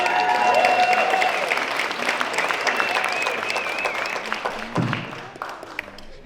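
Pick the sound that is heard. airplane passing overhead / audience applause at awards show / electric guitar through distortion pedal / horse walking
audience applause at awards show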